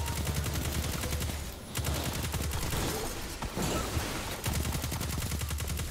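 Rapid pistol gunfire in the video game Paladins crackles in dense, repeated bursts across the whole stretch, with only brief lulls between volleys.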